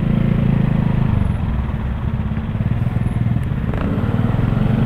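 Kymco Kargador motorcycle with a cut-down cafe racer body, its engine running steadily at close range with a throbbing low idle and faint crackle, no talking over it.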